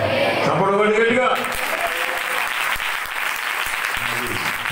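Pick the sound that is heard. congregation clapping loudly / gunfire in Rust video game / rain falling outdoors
congregation clapping loudly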